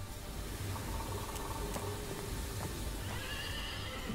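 Horses whinnying in the Western stealth-tactics game Desperados III, a neigh rising over a dense, noisy game backdrop with faint hoof clops, no talking.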